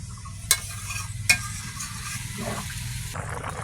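Water poured into a frying pan of potol (pointed gourd) and prawns gives a soft steady sizzle and bubbling, with two sharp clinks of a utensil against the pan.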